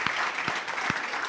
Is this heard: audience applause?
yes